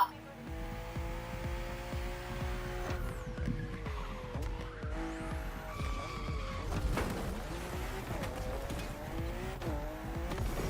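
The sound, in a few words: BMW M2 and M4 race cars racing on a narrow track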